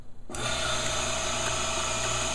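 A Graco paint sprayer piston pump with a freshly polished stainless steel piston starts up abruptly, then runs as a steady close mechanical hum and whir with a constant tone, heard alone.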